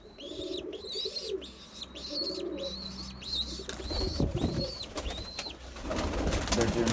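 Young fantail pigeons coo in low repeated throaty calls, close by, with sharper chirps and a brief wing flutter mixed in, and someone speaks quietly partway through.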